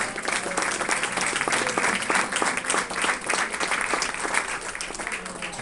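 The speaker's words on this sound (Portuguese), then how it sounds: "o aplauso aí" Church congregation applauding during an Easter service sermon, dense steady clapping throughout, moderately distant, with no speech over it.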